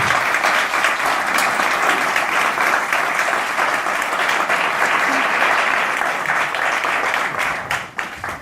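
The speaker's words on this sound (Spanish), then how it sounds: "un aplauso, ¿no?, para Marta." An audience in a lecture hall applauds after a mindfulness talk on education, a dense, steady burst of clapping that holds evenly for several seconds before tapering off at the end.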